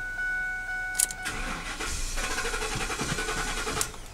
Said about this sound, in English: Just letting you hear it crank.